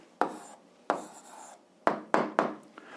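Pen or marker strokes on a surface as an algebra answer is written down, about six short scratchy strokes in irregular rhythm, close and fairly quiet, with no talking.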